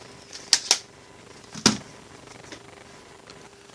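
A DLAND BK-001 folding Bluetooth keyboard gives a few sharp, solid clacks of key presses, three close together near the start and then sparse faint taps, with no talking.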